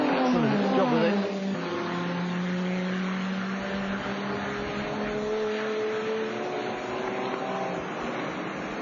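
A Porsche GT race car circles the Watkins Glen circuit, its engine droning steadily at mid distance with rising and falling pitch, heard beneath a commentator's voice.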